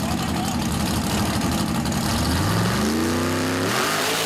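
A pro-stock mud truck launches hard off the start line at an outlaw mud drag race, its engine roaring loud and close, then rising through a climbing rev sweep as it pulls away.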